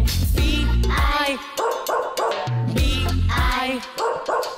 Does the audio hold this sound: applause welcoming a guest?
no